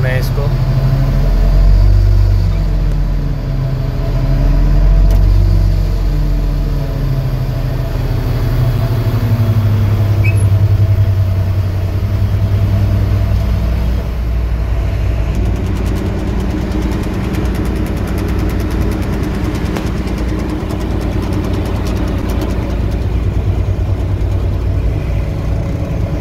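A Kato mobile crane engine runs steadily while gypsum boards are unloaded in a Kuwait city, a loud low idling drone heard close throughout under someone talking.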